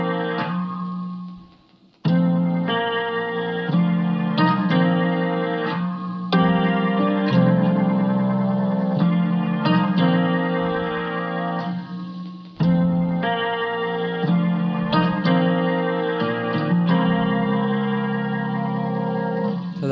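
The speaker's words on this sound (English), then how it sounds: "I started with these chords on piano. I played them. And this is what they sound like." Eight-bar piano chord loop played from MIDI in a beat, run through chorus, distortion and echo effects, sustained chords changing every couple of seconds, loud and alone with a brief drop near the start.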